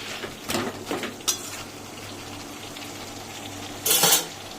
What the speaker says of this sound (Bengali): এবার আমি এখান থেকে এখানে গরম জলটা দেবো।